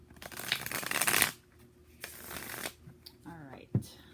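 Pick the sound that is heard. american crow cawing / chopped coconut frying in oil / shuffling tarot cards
shuffling tarot cards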